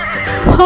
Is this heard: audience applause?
no